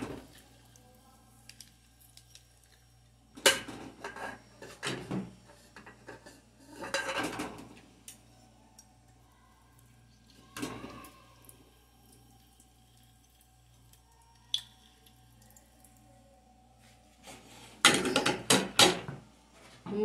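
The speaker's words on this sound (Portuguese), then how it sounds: "Limão, que eu vou espremer ele aqui no espremedor" A lime is pressed in a hand citrus squeezer in a home kitchen while pork ribs with cassava are cooked, giving several short, scattered bursts of clanking metal and wet squishing, fairly faint, with quiet pauses in between.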